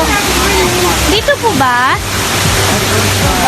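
A waterfall at Secret Falls in DRT, Bulacan, gives a steady broad rush of falling water throughout, while people speak briefly close by over the roar.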